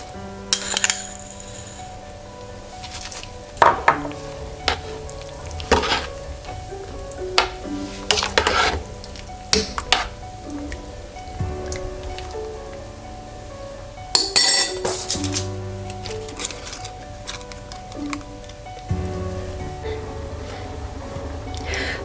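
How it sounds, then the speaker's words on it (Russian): A spoon stirs spinach soup in a pot, with repeated clinks and scrapes against the metal and a soft simmering bubble underneath, close and fairly loud. "Суп хорошо перемешиваем и оставляем варить минут 10-15 до готовности."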